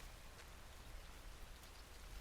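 Steady rainfall in the video game Hundred Days, a soft continuous hiss of drops on surfaces, faint and even throughout with no voices.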